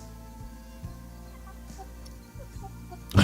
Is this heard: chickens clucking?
yes